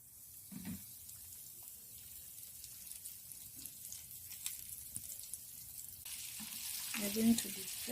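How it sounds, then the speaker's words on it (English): Chicken pieces coated in all-purpose flour deep fry in oil with a faint, continuous hiss and bubbling that swells near the end, along with a few light kitchen clinks. "We're going to deep fry them till they are golden brown"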